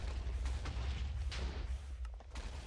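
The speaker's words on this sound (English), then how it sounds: "Wish I could get rid of that like explosion effect when they spawn" Explosion effect as withers spawn in Minecraft, a continuous loud rumbling boom with several sharp bursts layered over a heavy low-end roar throughout.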